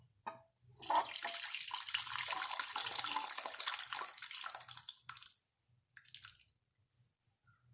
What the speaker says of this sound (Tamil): வேறு பவுலுக்கு மாற்றிக்கலாம்.